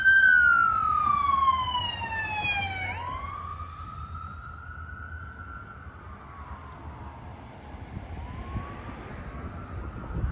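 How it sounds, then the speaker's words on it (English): An ambulance siren wails loudly at first, its pitch sweeping down as the vehicle passes, then a fainter wail carries on as it drives off along a small-town Iowa street, with traffic hum underneath. "Hear the ambulance?"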